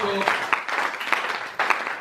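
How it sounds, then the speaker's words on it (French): A church congregation applauding and cheering at a Sunday service, a dense wash of clapping with voices rising through it, fairly loud and steady for two seconds. "Est-ce que nous pouvons bénir Dieu par nos acclamations?"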